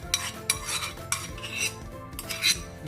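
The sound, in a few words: cleaning a cooking pot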